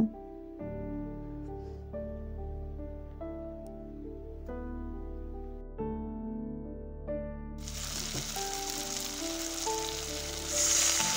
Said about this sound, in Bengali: এবার এই মশলাটার সাথে ক্যাপসিকামটাও খুব ভালোভাবে কষিয়ে নেব।